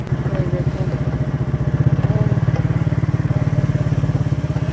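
Motorcycle being ridden, a loud, steady, throbbing engine putter with a fast regular pulse running close up throughout.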